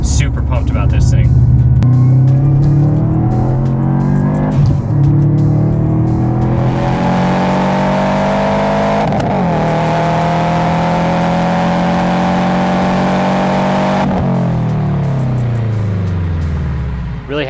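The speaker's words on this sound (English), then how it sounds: "It's a really good sounding Subi typical exhaust plus more volume." A Subaru WRX fitted with an HKS exhaust revs repeatedly, its engine note climbing and falling in long loud sweeps, close by, with a speaking voice partly over it.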